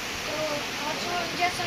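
Steady, loud roar of heavy rainwater rushing through an overflowing open drain beside homes, a continuous hiss with no break across the whole stretch.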